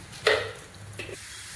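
A spatula stirs papaya curry with cashews and raisins in a pan, giving two short, close scraping strokes over a faint sizzle.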